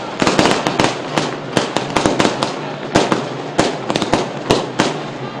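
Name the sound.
firecrackers being set off at cricket match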